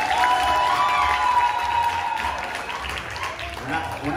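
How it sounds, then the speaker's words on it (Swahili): An audience applauds for the leader in a hall, a loud, dense wash of clapping that gradually fades, with a voice speaking over it. "Mpigie kiongozi makofi mengi sana."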